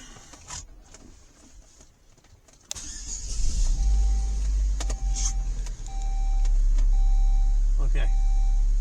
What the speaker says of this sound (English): Let's go ahead and start this car back.